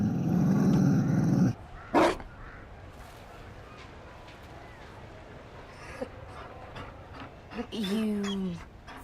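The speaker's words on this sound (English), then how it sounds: "You found a dog?" A Mabari war dog in Dragon Age Inquisition snarls and growls, with a loud burst at the start and a few sharper barks and yelps later, set among quieter game ambience.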